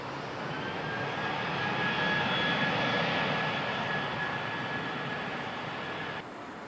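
A China Eastern jet takes off at Incheon Airport, engines roaring in a broad, steady wash that swells to a peak and then eases off, loud but somewhat distant, with no voices.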